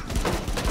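Brief burst of gunfire in the shooter game Rainbow Six Siege, dense and steady over less than a second, loud and close.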